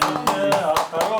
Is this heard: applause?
yes